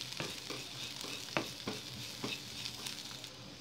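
Capsicum and carrot being stir-fried for Indian-style white sauce pasta, with a soft continuous sizzle and light irregular stirring clicks, fairly quiet and close.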